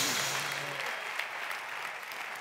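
Sustained applause from a lecture audience, many hands clapping evenly and a little louder at the start, then settling into a steady wash without any talking.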